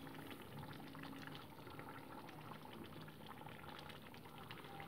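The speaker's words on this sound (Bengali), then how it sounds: "2 মিনিটসের জন্য এটাকে ফুটিয়ে নিচ্ছি আমি" Bhola fish curry in mustard gravy simmers in a pan, a soft, steady bubbling and gurgling that stays even and fairly faint throughout.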